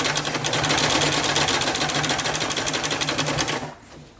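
Sewing machine stitching steadily and loudly up close with a fast, even mechanical rhythm, running for over three seconds before stopping abruptly.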